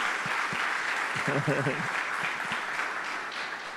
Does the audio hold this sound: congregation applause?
yes